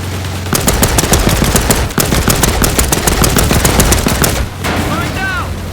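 Loud, sustained machine gun fire in the PC war game Land of War, rapid bursts rattling almost continuously with a short break, then a trailing pause with faint voices.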